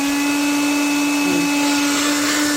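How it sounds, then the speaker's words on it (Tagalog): A vacuum cleaner found while dumpster diving in Korea runs steadily with a loud, constant motor drone and high whine, close by and unbroken, with no talking. "meron tayo ditong vacuum. Ayan. Gumagana siya guys."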